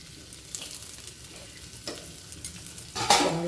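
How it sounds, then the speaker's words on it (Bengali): Bitter gourd pieces fry in hot oil in a wok, a soft crackling sizzle with a few stirring scrapes and a louder burst of spitting near the end. "করলাগুলো দিয়ে লাল লাল করে ভেজে নেব।"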